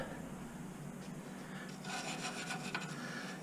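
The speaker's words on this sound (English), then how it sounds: "hit them with a little brass brush real quick to get any of the scaly rust off" A small brass wire brush scrubs scaly rust off exhaust bolts on a Nissan Murano, a steady close rasping that grows brighter and more rhythmic partway through, with no talking.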